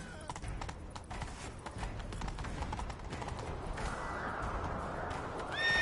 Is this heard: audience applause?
no